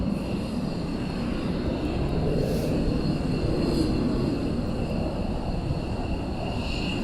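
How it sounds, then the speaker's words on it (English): Military aircraft taxiing at RAF Lakenheath during surge operations, a steady distant engine drone and whine holding evenly throughout. "We have another one taxiing down"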